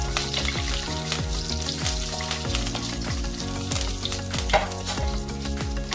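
Curry leaves sizzle and crackle in hot oil for sabudana khichdi, a dense continuous frying hiss with repeated stirring scrapes of a spoon in the pan, close and steady.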